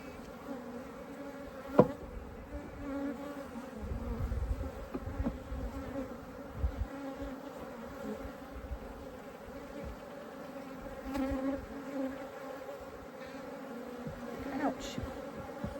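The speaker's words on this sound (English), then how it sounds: "Those are stinging. Sweet bees." Steady droning buzz of many honey bees around a hive, with a few faint knocks and soft movements nearby.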